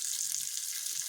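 Green chillies dropped into hot oil with curry leaves, asafoetida and urad dal for an okra vegan raita tempering, producing a brief, close, continuous hiss of sizzling oil.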